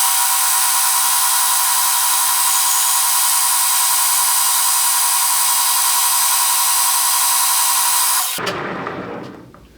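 Power cutting tool trimming a metal car shifter part, a loud steady high-pitched whine running for about eight seconds before it cuts off and spins down into quieter rustling.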